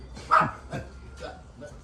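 A small dog gives a few short yips and barks, close and moderately loud, spaced out over a couple of seconds with faint background noise.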